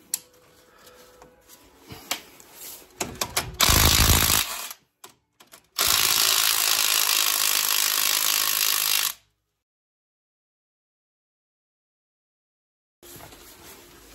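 A ratchet tightens a nut on the steering ball joint of a Renault Clio 2, with sparse clicks followed by two longer runs of rapid ratcheting, then silence and a brief final burst.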